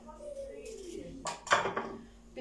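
A knife chops food in a home kitchen, two or three sharp knocks against a board close by, following a stretch where someone speaks.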